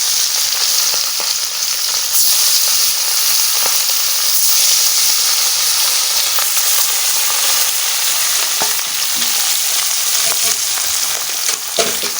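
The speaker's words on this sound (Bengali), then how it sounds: "মাছ ভাজা বসাই দিলাম" Rohu fish frying in a pan gives a steady, loud, unbroken sizzle for the whole stretch, with faint scrapes and clicks now and then and no voices.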